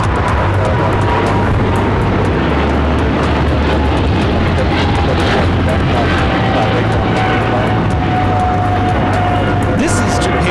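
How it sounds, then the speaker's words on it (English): A Japan Airlines Boeing 777-300ER takes off at LAX, its engines a loud, steady roar with a sustained rising whine, blended with constant wind and crowd noise and some talk over it. "This is Japan Airlines Flight 15 taking off to Tokyo Haneda on the 777-300ER"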